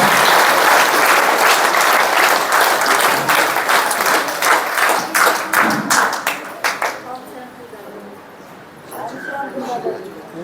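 Applause from an audience at the inauguration ceremony of a new Brahma Kumaris building in a village, loud dense clapping that breaks into scattered claps and fades out, followed by a quieter stretch with a voice speaking.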